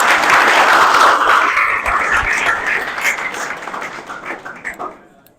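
Loud audience applause for principal Professor Ghazanfar Mahmood at a prize distribution ceremony, thick clapping that thins and fades out toward the end.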